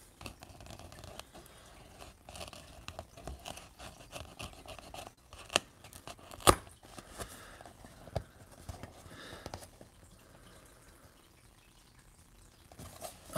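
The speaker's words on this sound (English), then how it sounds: "Let's get the seal broken." Seal torn off a trading card box from a 2019 Hit Parade baseball break: crinkly, scraping plastic and rustling with a few sharp snaps, close up and moderately loud, no talk.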